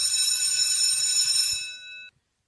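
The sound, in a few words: greyhound race start bell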